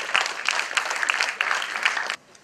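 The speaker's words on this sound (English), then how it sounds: "A huge round of applause for them." Audience applause at an innovators conclave, a dense burst of clapping for about two seconds that cuts off abruptly into quiet room tone.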